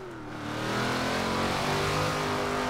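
A car engine in the racing game Forza Horizon 4 revs hard during a drift, rising to a sustained, loud, buzzing high-rpm drone that holds steady for a couple of seconds.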